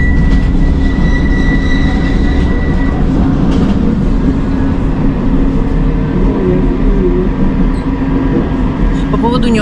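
Tram riding across Galata Bridge in Istanbul, a loud steady rumble of wheels on rails with faint squeals and clatter inside the car, heard continuously up close.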